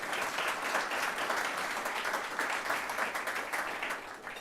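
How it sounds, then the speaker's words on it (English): Audience applause at a university talk, steady dense clapping from a crowd filling the whole clip without a break. "Please let's give them all a round of applause."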